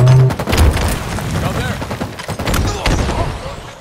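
Grenade blast and gunfire in a Halo Infinite close-quarters multiplayer match, loud booming impacts mixed with rapid shots, with a voice talking over the chaotic action.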